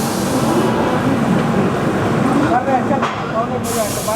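Sachkhand Express pulling out of New Delhi railway station: a steady, loud rumble and hiss of the moving train fills the whole stretch, with faint squealing wheel or brake tones rising near the end.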